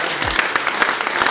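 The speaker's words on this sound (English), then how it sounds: "Let's have one more round of applause." A crowd at a surfing event claps in a brief, dense burst of applause, loud and continuous throughout.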